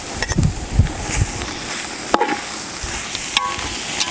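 Masala with finely chopped capsicum sizzles steadily in a pan while a spoon stirs it, scraping and clinking in irregular strokes close by, the frying hiss running throughout.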